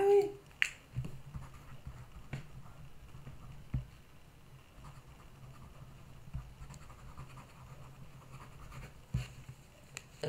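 A pen or pencil writes notes by hand on paper, with soft, close scratching strokes and occasional taps that come in short, irregular bursts at a quiet level.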